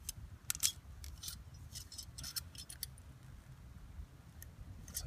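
Metal support arms on an MSR Whisperlite camp stove are spread apart into their notches, making small clicks and scraping rubs, close and quiet, with no talking.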